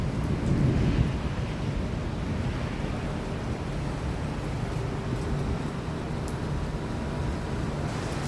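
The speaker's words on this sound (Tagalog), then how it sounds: "Ang lakas ng kulog." Loud rumbling thunder rolls through steady rain, strongest in the first second, then settles into a dense, continuous low roar of downpour close by, with no voices.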